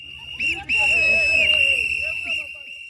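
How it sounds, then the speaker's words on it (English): Protesters in Harare blow shrill whistles, one dominant piercing tone sustained for over two seconds after a short opening blast, with chatter and crowd noise underneath. "Whistling protests are an expression of that anger."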